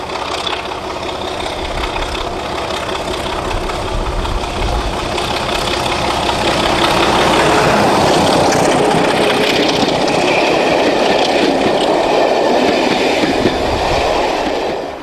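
Two diesel locomotives, D5830 (31463) and 31297, idling and then departing from Loughborough on the Great Central heritage railway. Loud, continuous engine rumble builds into heavier throbbing as they pull away, with no voices.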